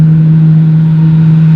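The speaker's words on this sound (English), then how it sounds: "The engines are being revved up." Aircraft engines revving up before takeoff, a loud, steady droning roar with a strong constant hum, continuous and close throughout with no voices.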